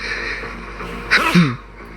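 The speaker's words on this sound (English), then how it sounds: "I never sneezed on the air, and I couldn't hold it." A single short sneeze bursts out close and fairly loud over faint background noise, during a live news broadcast.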